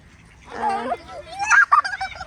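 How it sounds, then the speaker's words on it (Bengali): Geese and ducks honk close by at a park in Norwich in a short burst of nasal calls, with a faint voice in the background. "প্রচুর হাঁস আছে এবং অসম্ভব সুন্দর একটি পার্ক"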